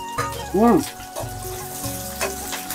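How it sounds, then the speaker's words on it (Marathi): Onion and curry leaves fry in hot oil for a Konkani-style fish curry, a steady soft sizzle running under close voices and brief kitchen clatter. "आता मी तेल टाकते ह्याच्यात आणि कांदा आणि कढीपत्ता हा ह्याच्यात भाजून घेते"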